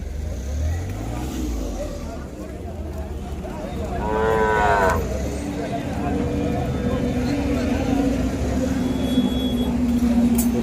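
At the Vaniyambadi cattle market, a single drawn-out cow moo rises clearly midway amid a steady murmur of crowd noise, voices and passing vehicles.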